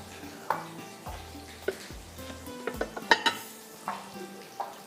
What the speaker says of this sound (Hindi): आराम से हल्की आग पे आपने इसको फ्राई करना है